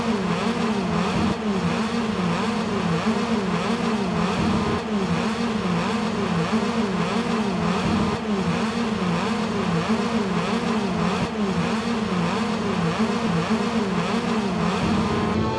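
Moto2 racing motorcycles on the Sepang grid at the Malaysian Grand Prix start: a loud, dense, continuous engine roar with pulsing revs from many bikes at once.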